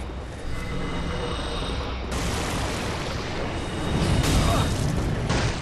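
Crystal Soul Mass sorcery is cast in Dark Souls 3 player-versus-player combat, a dense stretch of loud booming, bursting magic effects and game noise that swells louder toward the end, with no talk.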